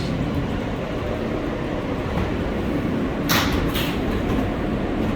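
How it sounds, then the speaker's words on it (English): An NYC subway R143 L train rolls along with a loud, steady rumble heard from inside the car, broken midway by a couple of brief bright squeals or hisses. "This is the Rockaway Pkwy bound L train"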